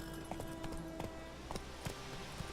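Quiet, irregular clop of horse hooves at a walk in the video game The Witcher 3: Wild Hunt, faint taps spaced through a low ambient background.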